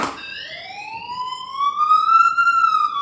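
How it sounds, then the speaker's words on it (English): A fall-detection siren sounding from an AI companion robot: one loud, clear electronic tone that rises steadily in pitch over a few seconds, heard close and alone. "so you can see there is a symbol and siren as well."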